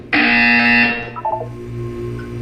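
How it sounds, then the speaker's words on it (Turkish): A loud, harsh electronic buzzer from the video game Portal 2 blares for about a second, then cuts off, leaving a few fading tones and a low hum behind. "When you hear the buzzer, look up at the ceiling."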